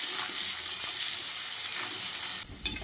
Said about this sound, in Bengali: তারপরেই কেটে রাখা আলুগুলো দিয়ে দিচ্ছি। আলুগুলোকে দিয়ে নুন হলুদের সঙ্গে ভালো করে ভেজে নিতে হবে।